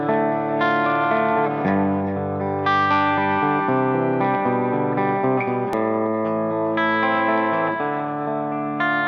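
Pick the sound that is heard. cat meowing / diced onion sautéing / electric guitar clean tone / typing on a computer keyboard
electric guitar clean tone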